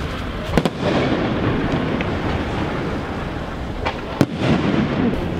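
Fireworks crackle and boom in the distance outdoors in Sibiu, a steady wash of rumbling bursts with a few sharper pops, heard through wind noise on the microphone.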